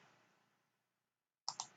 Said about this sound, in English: Right mouse click, drag,